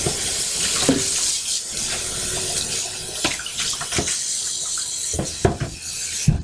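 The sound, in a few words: water running while rinsing a mixing bowl at the sink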